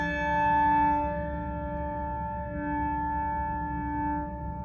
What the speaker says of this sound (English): we try to keep our castings or our bells facing upward when we ring